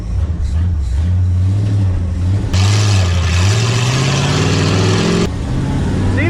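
A 1978 Ford F-350 truck engine revs loudly, pitch rising and falling in repeated swells, then climbs steadily as it drives off, close and strong, with a burst of wind rush in the middle.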